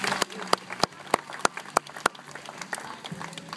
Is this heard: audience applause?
yes